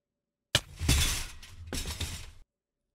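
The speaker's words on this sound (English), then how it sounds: "Okay, that was that kind of quiet glass breaking one." Quiet glass shattering sound effect from the Minecraft video game, heard twice in quick succession: a sharp crash followed by a brittle, tinkling break, each alone with no talking.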